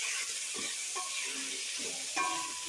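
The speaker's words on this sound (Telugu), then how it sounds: "ఈ టమోటా అనేది పేస్ట్ లాగా అంతవరకు ఉడికించుకోవాలి" Chopped tomatoes cooking down in oil for kushka make a quiet, soft sizzle, with occasional stirring scrapes and light clatter close by.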